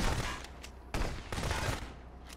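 Shotgun blasts in the police-checkpoint video game Contraband Police: several sharp, fairly loud reports in quick succession, each with a short ringing tail.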